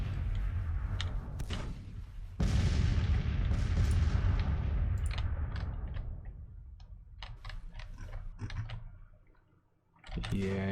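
Artillery cannons fire in the Grand Tactician Civil War video game on a mountain pass, a series of sharp booming shots with a long rumbling decay and scattered clicks between them.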